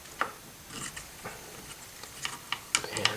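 An SKS rifle's bolt carrier being set onto the bolt and pressed down, with a few light metallic clicks and small mechanical knocks spread across a short, quiet stretch, ending in a quick cluster of sharper ticks.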